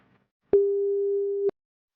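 A telephone call tone sounds as a single steady electronic beep of about one second, clean and alone against silence.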